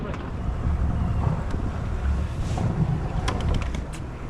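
A RIB runs on open water near a cove. Its engine drone sits low under heavy wind buffeting on the microphone and splashing water, and there are a few knocks and thumps.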